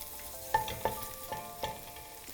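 White onion strips and a chile de árbol frying in hot lard, a soft steady sizzle with a few light clinks of a utensil against the pan, close and quiet.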